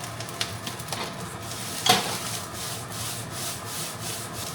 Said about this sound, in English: High heat now, and I toss everything together fast